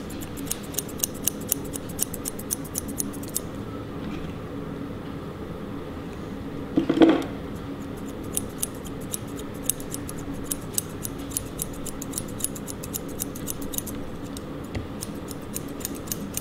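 Scissors snip steadily through dog fur during trimming, a fast regular run of crisp close clicks with one louder rustle partway through.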